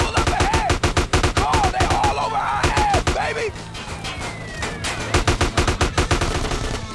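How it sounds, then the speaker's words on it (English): Rapid bursts of automatic gunfire in a GTA San Andreas shootout crackle loudly and almost without pause, with sharp repeated shots, whistling ricochet-like tones and shouting voices mixed in among the shots. "Just shoot everybody"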